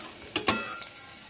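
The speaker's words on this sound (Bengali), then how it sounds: "চিংড়ি মাছটা একটু হালকা করে ভেজে নিতে হয়" Small shrimp frying in mustard oil for a Bengali potol chingri dish, with two short bursts of sizzling and scraping as the pieces are stirred, close and fairly loud over a quiet background hiss.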